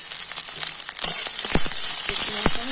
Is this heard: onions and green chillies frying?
yes